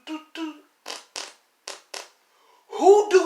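Short puffy fart-like bursts come in a rough series, about six quick blasts with gaps between, then a louder sputtering, voice-like squeal at the end, as in a farting contest between a kid and his dad.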